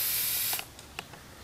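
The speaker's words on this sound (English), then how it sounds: "put down your stencil, and just spray on the stencil, and you're done" An aerosol can of spray paint hisses steadily over a stencil laid on an airsoft gun. The short, close burst cuts off after about half a second, followed by a few faint clicks and taps.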